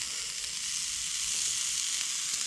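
Strips of bacon sizzle and crackle on a hot rock at an outdoor camp breakfast, a steady, loud frying hiss that runs unbroken throughout.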